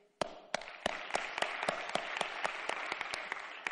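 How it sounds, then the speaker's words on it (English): Clapping at a conference talk: crisp, distinct claps land in a steady, fairly quick rhythm over a soft background wash, sounding like a few close hands rather than a large crowd. "thank you so much for clapping"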